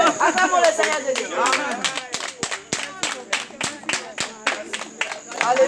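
A church congregation claps in acclamation of Jesus, sharp hand claps in a quick, fairly steady rhythm with voices singing or calling out beneath, loud and close throughout.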